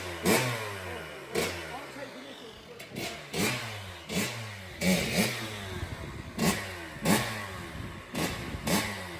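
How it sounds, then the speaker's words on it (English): A motorbike spun around in a workshop yard, revved in repeated loud bursts roughly every second, engine note climbing and dropping with each throttle blip, with a little talk in the background. "And you've just seen Penny spinning that motorbike around."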